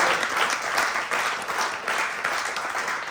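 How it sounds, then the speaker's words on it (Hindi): Enthusiastic audience applause fills a theatre after a Hindi comedy play, a dense, steady wash of many hands clapping at once, loud and close, with no pause across the few seconds. "दोनों के लिए जोरदार तालियां"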